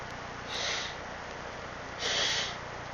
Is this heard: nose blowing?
yes